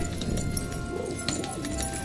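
Pigeons cooing, low rolling coos from nearby under a steady background murmur, with faint rustling; no talk.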